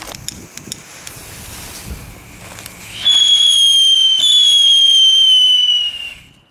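Consumer fireworks from a New Year's category 1 mix are set off outdoors: a few sharp pops and crackles, then a loud, sustained high whistling launch lasting several seconds before fading, with wind noise around.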